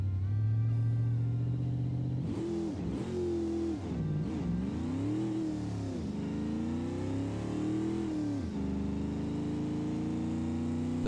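A supercharged Moonhawk drag car in a video game launches hard, its engine revving loudly in rising and falling sweeps through the gears, close and continuous with no talk.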